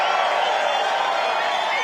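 A large crowd at a Trump rally in Butler, Pennsylvania, producing a steady, loud roar of cheering and whooping with no breaks.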